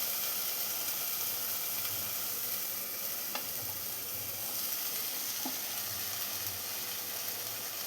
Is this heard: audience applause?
no